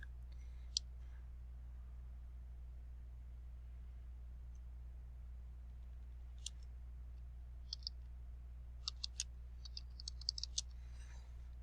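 Faint, sparse clicks of typing on a computer keyboard come in short scattered bursts over a steady low hum, quiet and without talk.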